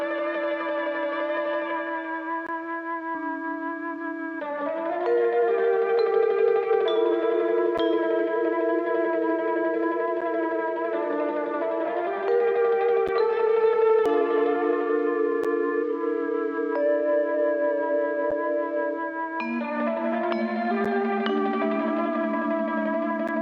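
Mellotron lead melody layered over acoustic guitars in an eerie Silent Hill 1999 style, sustained chordal tones shifting every few seconds, steady and fairly loud with no voices.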